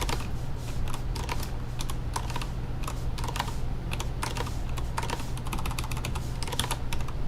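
Rapid, continuous typing on a computer keyboard during coding work, with dense irregular key clicks running steadily throughout, close and clear over a low background hum.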